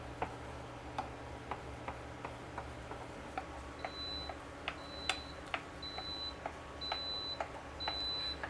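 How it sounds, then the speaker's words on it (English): A Sunmaki 316 induction cooktop gives off a regular ticking pulse with a repeated, faint, high safety beep layered over it, beeping about once a second in the second half. "Wish there was a way to turn off that beeping"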